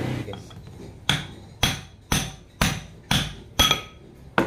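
Hammer striking a pipe to seat the steering stem bearing on a Kawasaki Ninja 150RR, seven sharp metallic blows at a steady rhythm, close and distinct with ringing decay between hits.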